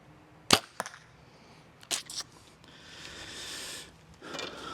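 Compound bow fired with a release trigger while sighting in a Spott Hogg Fast Eddie XL sight: a sharp snap of the string near the start, a second thud shortly after, then faint rustling outdoors.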